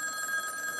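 A brief, faint electronic telephone ring sounds in a quiet indoor room, a steady tonal trill lasting under a second with nothing else around it.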